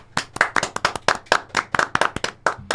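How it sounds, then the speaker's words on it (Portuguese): A small group of people clapping at the close of a Brazilian talk-show podcast episode, with distinct separate claps in a quick, uneven rhythm, close and fairly loud for just under three seconds. "só vai uma salva de palmas"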